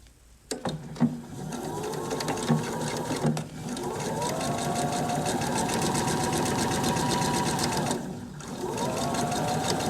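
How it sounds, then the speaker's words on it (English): A sewing machine stitches the seam of a pleated fabric face mask, its steady rapid whirring running for several seconds, with brief pauses and restarts near the start and a short break toward the end. "take it over to your sewing machine and sew a stitch"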